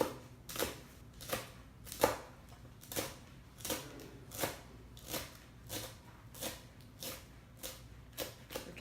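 A knife finely dices bundled lemongrass for Lao-style beef jerky, giving crisp, evenly spaced chops about two per second that stay close and distinct over a quiet background.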